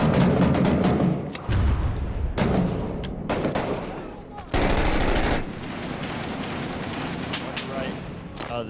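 Sustained bursts of automatic fire from an M249 SAW light machine gun in the video game Six Days in Fallujah, loud and rapid, broken by short pauses, with distant gunfire and battle noise between bursts.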